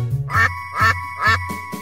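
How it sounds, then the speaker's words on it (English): Three loud, evenly spaced duck quacks followed by a fainter fourth, each a nasal honk with a low tonal backing in a children's song about a mother duck calling her ducklings. "Mother duck called with a quack,"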